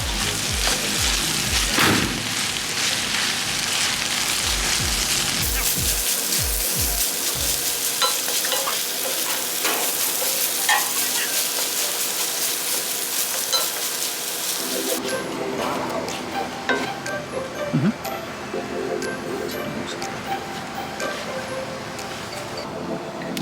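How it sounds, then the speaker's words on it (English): Onions sauté in a hot pan with sugar added, a steady sizzle broken by several stirring scrapes early on and crackling frying that carries on to the end. "just going to saute it and let it sizzle"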